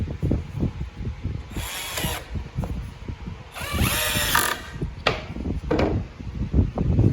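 A power drill bores holes for wooden dowel rods in a DIY ladder build, with two whirring bursts of drilling separated by knocks and handling thumps of the wood.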